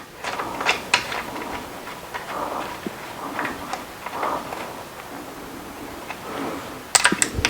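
Connecting rod cap bolts being threaded by hand on a small-block Ford engine, light metallic ticks and clicks scattered irregularly, close and faint, with a sharper cluster of clinks near the end.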